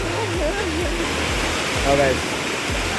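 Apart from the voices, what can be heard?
waterfall at Banakon Falls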